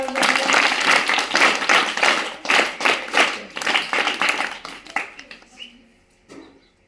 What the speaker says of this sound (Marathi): तर दिव्यासाठी आता जोरदार टाळ्या